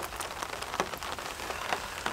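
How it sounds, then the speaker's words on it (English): Steady rain patters onto a surface beside a carp fishing swim, with scattered sharper drops standing out from the continuous wash, close and even throughout with no talking. "Rain started up again"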